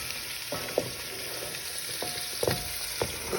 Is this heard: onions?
yes